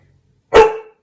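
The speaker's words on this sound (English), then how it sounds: "here comes my dog thinking that somebody is knocking on the door" A single dog bark, loud and close, lunging in abruptly and trailing off in under half a second, set off indoors in a home kitchen during soap making, otherwise quiet.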